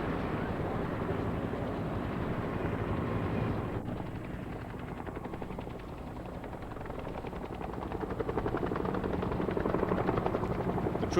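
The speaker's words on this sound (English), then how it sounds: "the sky was too confused with helicopters, American-built Hueys, landing and taking off" American-built Huey helicopters landing and taking off: rotors thud steadily and loudly, with a dense engine roar that swells slightly toward the end, as if aircraft are close by.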